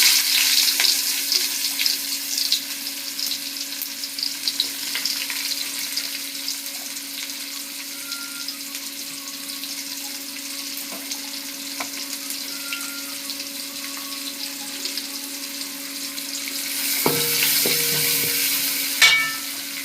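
Onions frying in a pan give off a steady close sizzle with a soft hiss that runs the whole time. Near the end, a few clinks and scrapes of stirring briefly make it louder. Nobody speaks.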